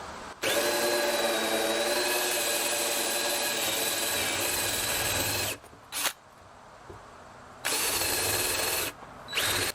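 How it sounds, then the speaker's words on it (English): A power drill whirs steadily as it bores into wood, wobbled to widen the hole, running in long continuous bursts with short pauses between them, loud and close. "I'm wobbling it as I drill so to make the hole a little wider."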